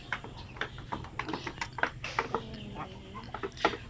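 Pure-breed Zampen native chickens clucking close by, a run of short, soft, irregular clucks with a few sharper notes, fairly quiet and unbroken by talk.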